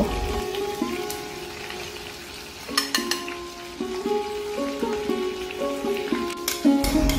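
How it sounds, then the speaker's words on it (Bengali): Marinated pomfret fries in oil with a steady crackling sizzle and occasional sharper pops, while a melodic tune plays over it. "লাল হওয়া পর্যন্ত মাছটাকে ভেজে নিতে হবে।"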